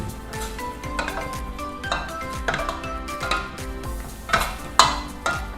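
A spatula scrapes and stirs green curry paste with shrimp paste in a pot, sizzling softly, with repeated clacking strokes against the metal at a steady rhythm.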